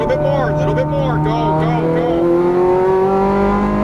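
A Ferrari F430 Scuderia engine revs and accelerates on a Las Vegas race track, its loud, close whine climbing through rising sweeps under a coaching voice.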